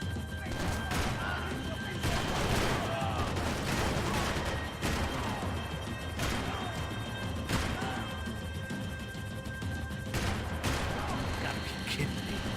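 Heavy, sustained gunfire and crashing impacts from Max Payne 3, loud repeated shots layered with game effects and occasional talk.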